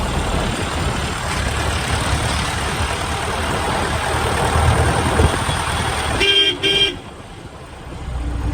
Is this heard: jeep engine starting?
yes